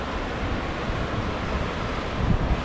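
Water pours over a river weir in a city, heard as a steady, broad rushing roar that stays constant and moderately loud with no voices.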